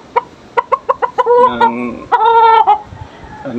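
A six-month-old straight-combed gamecock rooster gives a run of sharp, evenly spaced clucks, then two loud drawn-out crows close by.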